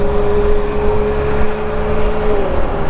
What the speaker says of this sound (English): That is loud. That's got to be a V12.